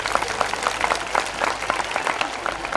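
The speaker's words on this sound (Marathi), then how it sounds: "बरं देतील असं वाटलं तर टाळ्या वाजवा" An audience applauds with a full, even wash of many hands clapping at a steady level, sounding fairly close.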